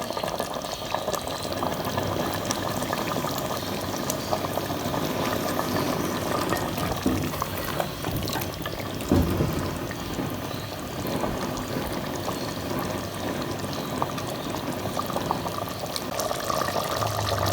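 Chicken handi simmering in a pot over a very low flame, a steady close bubbling and soft liquid burble running unbroken throughout, with no talk.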